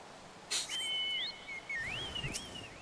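Game bird whistle in Final Fantasy XIV Online: a clear, gliding whistled call rising and falling in several swoops, fairly close and loud with a couple of short clicks near the start.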